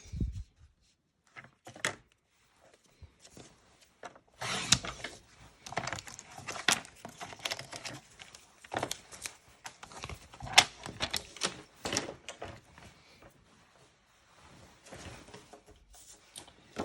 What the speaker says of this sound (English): I'm going to trim this down with our trimmer